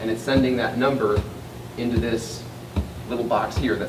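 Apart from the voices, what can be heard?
No distinct noise like a dog, phone or traffic.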